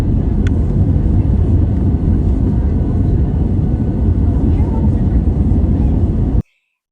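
Loud, constant roar of an airplane cabin during the approach into St. Maarten, a dense broadband engine and air rumble that runs unbroken for over six seconds before cutting off abruptly.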